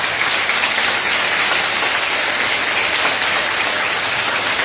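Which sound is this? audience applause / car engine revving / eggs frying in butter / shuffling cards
audience applause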